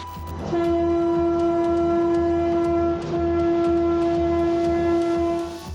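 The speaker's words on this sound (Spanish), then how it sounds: "Para nosotros quedó guardado su último silbido de despedida." A sinking fishing boat loaded with fuel and catch sounds its whistle in a long, steady, loud tonal blast, rich in harmonics, with a slight dip midway before continuing; no voices.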